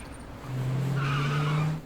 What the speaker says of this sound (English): The tire screeching.